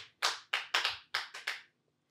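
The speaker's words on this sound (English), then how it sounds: "Clap your hands if I'm a horrible..." About six loud, sharp hand claps in an uneven rhythm, each one separate with a short ring after it, then silence.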